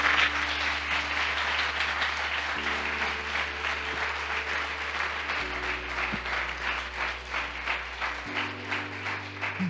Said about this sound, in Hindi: आइए यीशु के लिए जोरदार ताली बजाएंगे।